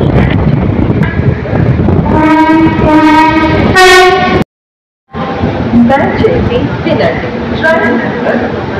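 A train horn sounds loudly at Gudivada junction station in two sustained blasts, the second stronger, over a rumbling platform din. The sound cuts out briefly, then station noise and faint voices resume.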